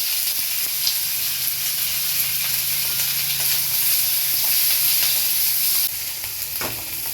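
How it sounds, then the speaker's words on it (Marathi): Onion sautés in oil for a chole masala, giving a loud, continuous sizzle with stirring scrapes and bursts of steam hiss up close. "कांदा परतायला थोडं तेल टाकूया त्याच्यामध्ये"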